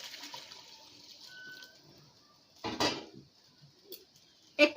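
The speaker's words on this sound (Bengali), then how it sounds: "এবার দিয়ে দেব গরম জল।" Hot water poured into a pot of cooking meat and potatoes on a gas stove, a short splashing gush followed by quieter sloshing and a few clinks of metal cookware at close range.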